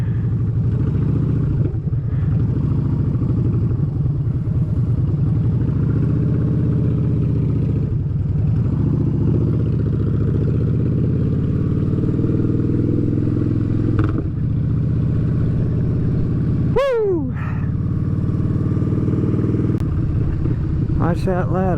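A motorcycle rides through traffic near roadwork, its engine giving a steady, close mid-pitched drone for the whole stretch, with a brief sharp chirp near the end.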